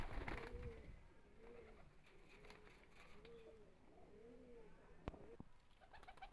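Female Teddy pigeons coo softly in a steady series of low, rolling calls against a faint background hum, fairly quiet and slightly distant.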